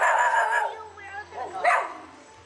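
A puppy guarding its house gives a couple of short, close barks and yips, with a whimpering tail, while a person talks nearby.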